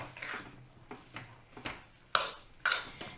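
A spoon stirs spices and boiled wheat in a pan for spicy wheat khichdo. Soft rhythmic scraping strokes are followed by two sharper metallic clinks, all close and quiet, with no voices.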